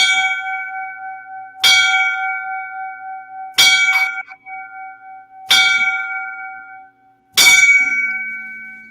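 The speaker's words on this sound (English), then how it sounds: "So I'm going to give him the 5 bells." Five loud, ringing bell strikes evenly spaced about two seconds apart, each a bright metallic clang with a long sustained decay, tolled for a firefighter's line of duty death.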